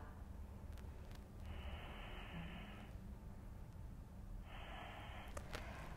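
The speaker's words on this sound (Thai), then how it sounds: "ค้างไว้หายใจเข้าออกค่ะ" Slow breathing held in a yoga pose for footballers, two soft airy breaths, faint and close, each lasting over a second against a steady low background hiss.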